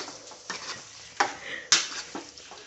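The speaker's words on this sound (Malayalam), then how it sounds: "നന്നായിട്ടുണ്ടല്ലോ ഇങ്ങനെ ഇളക്കി അങ്ങോട്ട് മറിക്കുക." Chicken parts being stirred and turned in a pan during a dry masala roast, with a few soft scraping strokes and light clatter spaced every half second or so, faint and close with no talking.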